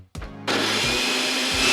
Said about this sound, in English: Oh, I've even got a remote for my blender.